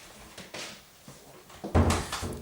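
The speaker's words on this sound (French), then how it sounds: "Ferme la porte." An indoor door pushed shut in a room, heard as a couple of soft knocks and shuffles followed by a louder closing thud near the end, fairly close and without talk.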